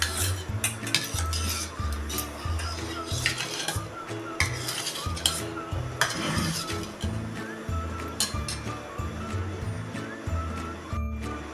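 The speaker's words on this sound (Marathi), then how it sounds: "त्यामध्ये आता ही हिंग मोहरीची थंड केलेली फोडणी एक चमचाभर आपण टाकून घेऊया आणि हे दही चांगलं मिसवून घ्यायचं आहे" Yogurt being stirred with a spoon after a spoonful of cooled asafoetida and mustard-seed tempering is added, for soft dahi vada, with steady metallic scraping and clinking against the bowl throughout.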